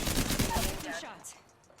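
Rapid gunshots from a firefight in Apex Legends, a dense burst of close, loud firing that cuts off and trails into fainter game sounds.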